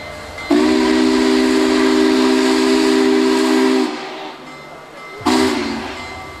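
Union Pacific 844 steam locomotive arriving from a run: a loud, close steam whistle holds a steady chord for about three seconds, then a short second blast follows over a background hiss of steam.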